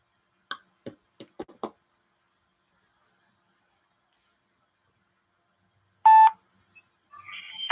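Telephone dialing: several short clicks or key taps, then a long silence before a steady electronic tone rings briefly on a cold sales call, followed by a faint line noise.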